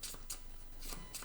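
A deck of monster action cards for the Horrified board game being riffled and shuffled by hand, heard as a few quick, soft, papery bursts at close range in a quiet room.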